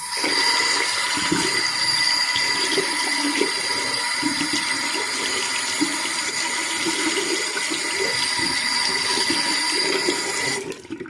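Running water pours steadily and loudly over a computer CPU being rinsed clean, a continuous close splashing flow that cuts off near the end.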